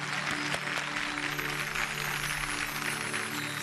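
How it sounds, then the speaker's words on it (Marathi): Applause from an audience, a steady dense patter of many hands clapping at fairly close range, with no talking. "जोरदार टाळ्या अभिजितसाठी."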